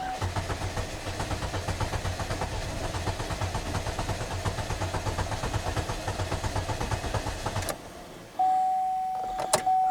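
A 2009 Chevrolet HHR engine cranks with a rapid rhythmic starter churn for about eight seconds without catching, then stops, followed by a steady chime and a couple of clicks.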